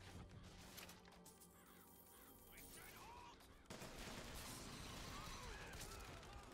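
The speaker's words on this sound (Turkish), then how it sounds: "Kargaları salıyoruz adamların üstüne." Crows cawing in the BioShock Infinite video game, summoned as an attack on enemies, with the cries mixed into a dense burst of gunfire and crashing game noise that gets louder and fuller partway through.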